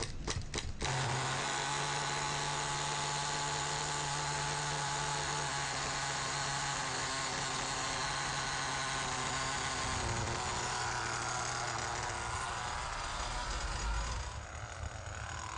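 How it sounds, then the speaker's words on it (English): A small HPI nitro RC model car engine starts and settles into a continuous high-pitched buzzing idle that holds steady throughout, then wavers slightly near the end, close and alone. "Now start the engine again."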